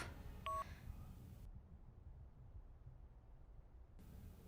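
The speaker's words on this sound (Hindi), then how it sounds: "ये राहुल का फोन क्यों नहीं लग रहा?" A phone dials out on a call that fails to connect, a quick burst of keypad tones at the start followed by low hiss and near silence.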